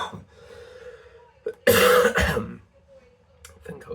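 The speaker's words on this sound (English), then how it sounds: "this croaky cough is still lurking" A single harsh, croaky cough bursts out loudly and briefly, with quieter breathing or murmuring before and after.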